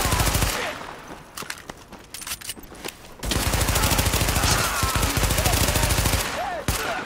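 Rapid gunfire rattles through a firefight in The Division, dense sustained bursts that break briefly then resume as a loud continuous stream of shots.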